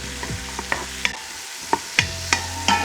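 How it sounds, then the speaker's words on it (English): Onions sautéing in an Instant Pot for creamy potato soup with bacon, a spatula scraping and tapping against the pot in repeated strokes over a soft sizzle, with a brief quiet gap midway. "you're gonna saute this until it's nice and translucent"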